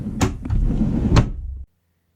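Small wooden drawer front with edge banding pushed shut onto slam latches: a sharp knock, a sliding rumble, then a second firm clack before sudden silence.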